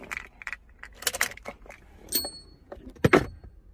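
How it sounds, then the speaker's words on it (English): Car keys jangle and clatter in short bursts as a key turns the ignition off on a Honda or Acura, with several metallic clinks close up and brief quiet gaps between. "Now it says turn off the ignition."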